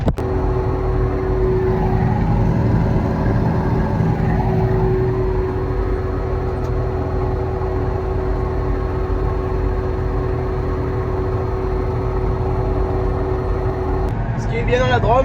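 Inside a tractor cab, the engine drones loud and steady at full speed across fields in the Drôme, a constant low rumble that barely changes, with a brief clatter near the end.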